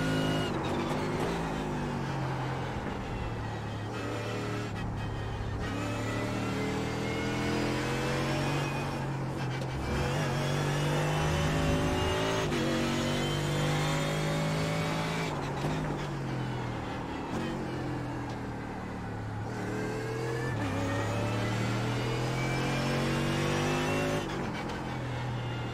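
Mercedes AMG GT3 race car engine in the iRacing sim at Spa, a loud continuous drone with rising and falling revs and gear shifts, running nearly the whole time with no talk over it.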